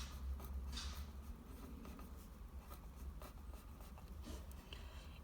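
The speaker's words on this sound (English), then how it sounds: "I'm going to write butterfly, copy the word, next to the number 4." A pencil scratches across paper as the word butterfly is copied out, close and soft with short strokes and brief pauses between them, and no one speaks.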